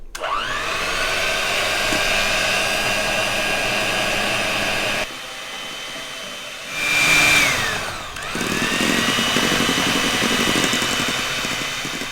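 An electric mixer whips egg whites for an Italian meringue. Its loud, steady high whir drops briefly, surges, then resumes at full speed.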